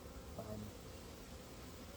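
Packaged honeybees being installed on frames in a new hive, giving a faint, steady buzzing hum under quiet background noise.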